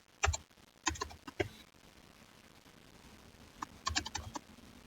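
Quick bursts of typing on a computer keyboard while writing code, a cluster of clicky keystrokes, a short pause, then another flurry, close and fairly quiet.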